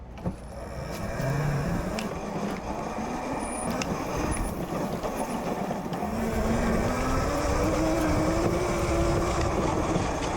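Oryxearth electric kids' mini bike riding off-road, a steady rumbling ride noise with a rising whine from the motor and bumps over rough ground, fairly close and continuous with no talk.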